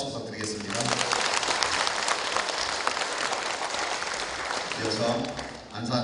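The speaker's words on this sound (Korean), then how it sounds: "다시 한번 큰 박수 부탁드리겠습니다." Applause breaks out at a Buddha's Birthday temple service, a dense burst of clapping from a large congregation that rises quickly and holds, while a voice speaks over the microphone before and after it.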